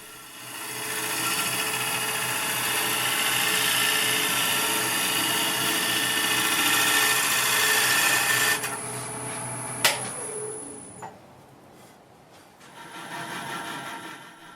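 A wood lathe turns a bowl blank of urban lumber while a tool cuts, giving a sustained rasping, whirring scrape that stops abruptly near the end, followed by a sharp click and the quieter spin of the lathe.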